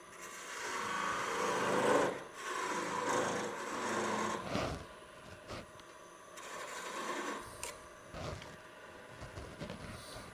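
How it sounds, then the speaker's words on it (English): Sandpaper rubs across the grain of wood spinning on a lathe, soft rasping swells in uneven bursts that fade quieter toward the end. "we're sanding across grain"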